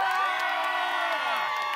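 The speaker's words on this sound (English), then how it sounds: "met with thunderous applause." A crowd cheers and shouts over clapping, a loud blended roar of many voices that holds steady for a couple of seconds.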